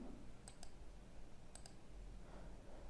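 A computer mouse clicks in two quick double-clicks about a second apart, crisp and close against a faint steady hum of room noise, with no talking.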